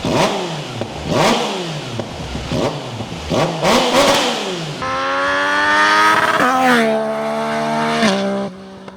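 A Tracer motorcycle with a modified, loud, raspy exhaust revs repeatedly in sharp bursts, then holds a long, high, droning rev before cutting off.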